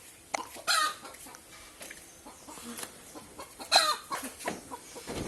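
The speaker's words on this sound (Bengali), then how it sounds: "মুরগিতে জায়গা পায় না ডিম পাড়ার" Hens cluck around a rural home in a string of irregular, close squawks and clucks, with louder bursts near the start and middle and quieter fowl sounds between them. No one speaks.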